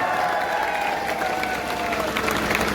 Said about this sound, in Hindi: तो उनके लिए तालियां बलती है।